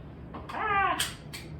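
A cat in a kitchen lets out a single clear, close meow, rising and falling in pitch, with short clicks and clatters of handling around it.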